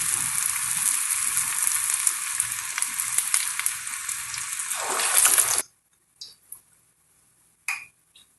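Medu vada deep-fry in hot oil with a loud, dense, steady sizzle that cuts off abruptly, followed by near-silence and a couple of faint clicks.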